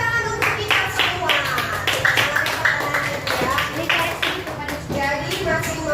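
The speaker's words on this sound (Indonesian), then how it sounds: "Kasih dulu tepuk tangan untuk kita semua" A classroom group breaks into applause, a burst of many hands clapping together for several seconds, fairly close, with voices mixed in underneath.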